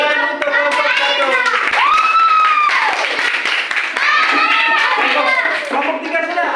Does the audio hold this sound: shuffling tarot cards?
no